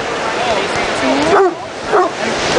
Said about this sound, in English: There are at least 40 dogs on this beach right now.